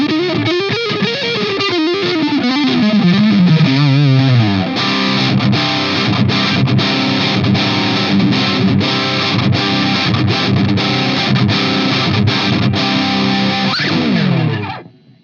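Electric guitar played through a NUX Recto high-gain distortion pedal, loud and saturated, opening with bending lead lines and then chugging palm-muted riffs with sharp rhythmic stops, continuous for about fifteen seconds with no talking.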